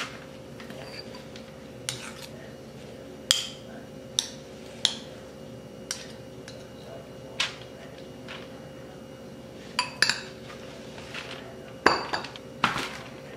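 Spoonfuls of pink and purple Kool-Aid cookie dough are dropped onto a tray, with a series of sharp metallic clinks and taps from the spoon at irregular intervals over a low, steady background hum.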